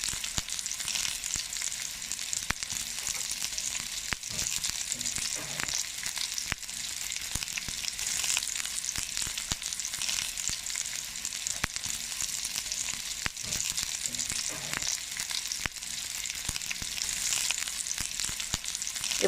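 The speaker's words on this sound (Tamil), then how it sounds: "எண்ணெயை வந்து நம்ம கொஞ்சம் மீடியம் ஃப்ளேம்லேயே வச்சு நம்ம பொரிச்சு எடுத்துக்கலாம்" Sweet somas (karchikai) deep-fry in oil over a medium flame, giving a continuous, even bubbling sizzle with faint crackles, steady and moderately loud throughout.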